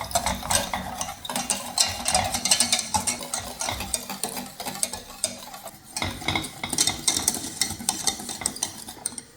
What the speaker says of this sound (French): Et là, on continue à touiller jusqu'à ce que le mélange épaississe